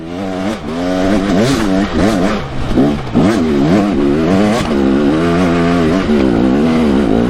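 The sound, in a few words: motorcycle engine revving on a hill climb while feathering the clutch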